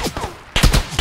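Rapid bursts of automatic gunfire in the video game PlayerUnknown's Battlegrounds, loud close volleys with a brief pause before a denser barrage.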